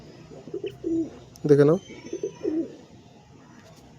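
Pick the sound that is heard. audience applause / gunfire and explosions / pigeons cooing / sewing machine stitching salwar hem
pigeons cooing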